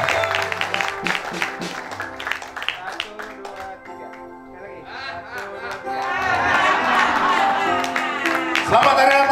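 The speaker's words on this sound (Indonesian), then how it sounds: "Kita kasih tepuk tangan bersama-sama." Applause and clapping ring out from a church Christmas service audience, mixed with music and voices; the clapping swells louder in the second half and continues under ongoing sound.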